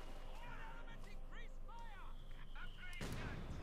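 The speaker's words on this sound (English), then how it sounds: "he's certainly trying to go and disrupt it by bombarding the light infantry gun in return" Artillery shells explode on the battlefield in the strategy game Company of Heroes 2, with a light infantry gun being bombarded amid steady game noise, whistling passes and a heavy blast near the end.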